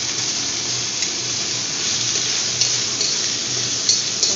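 Spices with ginger paste and green chilli paste frying in a pan over low gas for a mustard fish curry, a steady close hiss of sizzling oil with soft stirring scrapes throughout.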